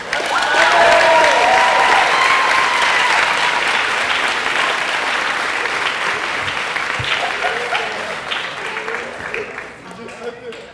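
Loud, sustained applause from a banquet audience at a senior banquet, welcoming a speaker; dense clapping starts at full strength, holds steady for several seconds, then gradually thins and fades toward the end.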